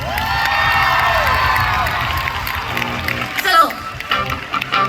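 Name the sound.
audience applause and cheering at a concert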